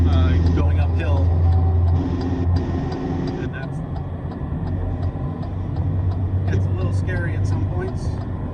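Truck engine labouring uphill while gaining speed on a highway, a loud steady drone with wind and road noise throughout, and someone talking over it.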